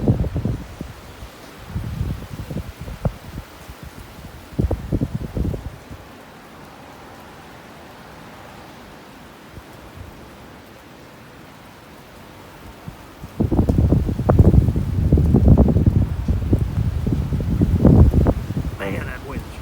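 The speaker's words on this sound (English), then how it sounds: "Man, that wind's strong. Really strong." Strong thunderstorm wind gusts of around 60 mph whip through trees, with bursts of rustling leaves and roaring gusts that fade to a quieter lull before surging loud again. Someone talks over the wind.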